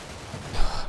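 Brief burst of distant gunfire from the Combat Mission: Cold War battle, a muffled rumbling volley that swells near the end.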